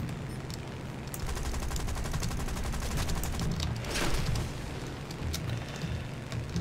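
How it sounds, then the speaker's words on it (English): Gunfire shooting at the player in War Thunder: sustained rapid machine-gun bursts over a low engine drone, swelling to a louder volley near the middle before settling into steady rattling fire. "Something's shooting at us very rudely"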